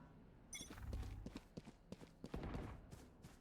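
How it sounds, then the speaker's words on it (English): Footsteps in Valorant, a tactical shooter, land as a run of soft, quick thuds amid faint game ambience during a tense round, moderately close and unaccompanied by talk. "Now I do hear a footstep."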